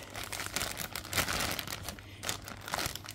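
Plastic bag wrapping a boxed Lobo action figure crinkles steadily and close up for a few seconds during unboxing, dense crackling without pause and no voices.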